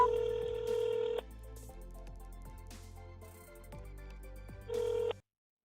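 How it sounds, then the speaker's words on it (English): A phone call to a chatbot number begins with a long electronic tone and continues with a series of soft ringing pulses. A second tone near the end cuts off into silence. "Now we are going to test this phone number by calling from our phone."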